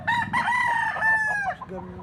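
A young black-legged stag rooster crows once up close, a loud drawn-out call that trails off, with a brief cluck after it.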